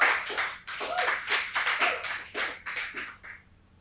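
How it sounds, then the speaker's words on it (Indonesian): Applause for Bernard, an Olympic cycling athlete, from a gathered audience: a burst of many hands clapping in quick uneven rhythm, fairly close and steady, tapering off toward the end. "Tepuk tangan untuk Bernard."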